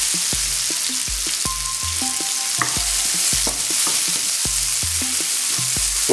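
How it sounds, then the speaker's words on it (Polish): Smoked bacon frying in a pan, a steady loud sizzle with repeated rhythmic stirring or scraping knocks throughout, no talk. "podsmażam to przez chwilę,"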